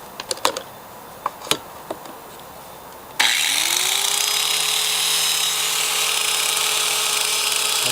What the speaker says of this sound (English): I'll only run the grinder on the 500.